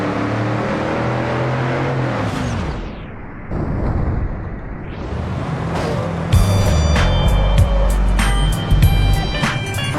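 Ford Raptor in BeamNG.drive, a video game, roaring past a truck: loud steady engine drone with a brief whooshing dip midway, then heavier rumbling and crunching impacts near the end.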